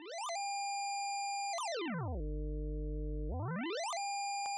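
An ALM 010 Busy Circuits OAx2 Eurorack modular synth voice driven by a sine LFO with positive DC offset: bright held tones that sweep down into a deep low drone, then sweep back up to high steady pitches.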